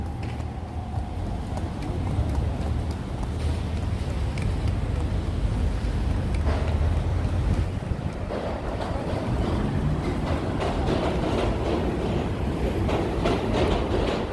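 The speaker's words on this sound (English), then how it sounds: "Hear the trains" A steady, loud rumble of passing trains in Manhattan, New York City, at night, with rolling rail noise and a faint high screech, continuous throughout and fairly close.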